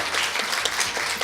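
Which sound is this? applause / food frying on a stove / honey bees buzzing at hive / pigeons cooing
applause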